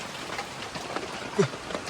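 Steady rain patters in a soft, even hiss with a few closer drips over a durian orchard in deep forest, no voices.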